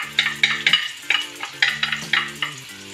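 Crushed tomato and rice cooking together in a pan for a creamy rice dish with cuttlefish and prawns: a bright, close sizzle swells and fades with rhythmic stirring scrapes about every half second, over a low steady hum.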